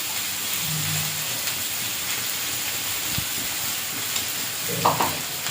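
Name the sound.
ridge gourd and potato frying with cumin paste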